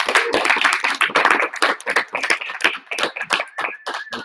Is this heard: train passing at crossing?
no